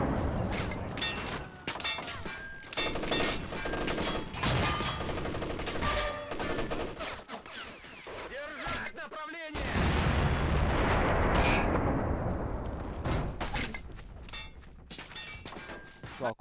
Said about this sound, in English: We're going to shoot at this pesky T-3485.